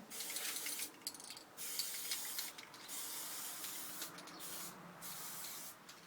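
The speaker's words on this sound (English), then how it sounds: "just spray to try and even it up" A steady aerosol spray of primer paint hisses in several long bursts with brief pauses between, close and continuous.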